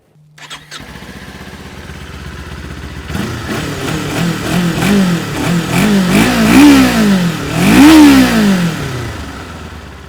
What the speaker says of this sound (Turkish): Bakalım motor bloğunun sesi nasıl güzel dostlar. Şöyle makineyi çalıştırayım.